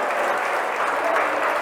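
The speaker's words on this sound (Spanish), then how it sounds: "Denle un aplauso bien grande." A church congregation breaks into steady, dense applause that fills the room evenly for the whole stretch, with no voices on top.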